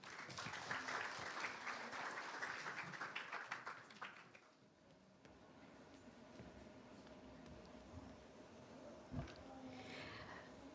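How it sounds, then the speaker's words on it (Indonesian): Audience applause at a school event before a group prayer, moderately loud clapping for the first four seconds that then fades into a quiet room with faint rustles and a stray tap. "Berikan tepuk tangan kepada adik Balkis,"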